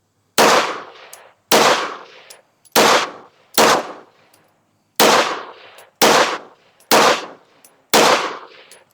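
Beretta APX A1 polymer pistol firing outdoors at a range: eight sharp, loud shots in uneven pairs and singles, each with a short ringing decay, no talk.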